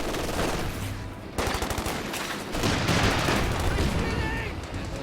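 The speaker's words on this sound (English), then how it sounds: "Covering fire!" Machine-gun covering fire in a Company of Heroes 2 match, dense rapid bursts and battle noise running loud throughout, with shouted in-game voices mixed into the din.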